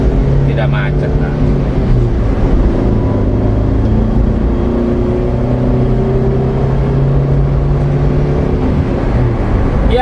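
Steady, loud cabin drone from a 2008 Toyota Avanza 1.3G cruising on an inner-city toll road, with low engine hum and tyre rumble continuing without a break. A voice is faintly present underneath.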